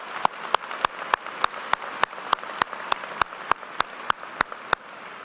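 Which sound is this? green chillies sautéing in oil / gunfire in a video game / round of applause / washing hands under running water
round of applause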